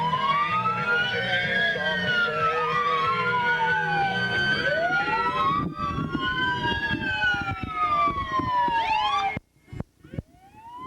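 A fire truck in a street parade wails with a loud rising-and-falling siren, several overlapping sweeps under engine rumble, cutting off abruptly near the end, leaving brief quieter street noise.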